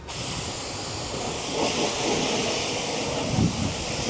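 Pressure-washer water spray rinsing wheel cleaner off a car, a steady broad hiss that runs throughout with slight surges, close and fairly loud.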